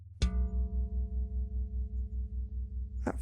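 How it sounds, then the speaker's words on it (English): A bell rung once, with a crisp strike followed by a long, clear ringing tone that hangs over a low rhythmic hum, then a faint brushing noise at the close. "Before visiting the dogs, he would ring the bell like this."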